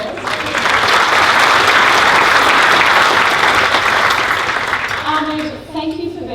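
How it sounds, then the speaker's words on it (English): A crowd at a school sport event claps loudly and steadily for several seconds, a thick roar of hands that tapers off as a voice begins speaking. "Please give Morgan a round of applause."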